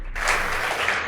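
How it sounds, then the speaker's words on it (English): A short burst of audience applause for State House Girls High School after their score is announced at an on-stage school competition. The clapping is brief, dense and even, lasting about a second. "Please give them a round of applause."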